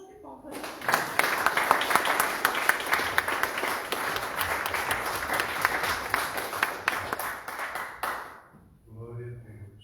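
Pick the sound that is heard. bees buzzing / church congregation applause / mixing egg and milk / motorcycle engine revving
church congregation applause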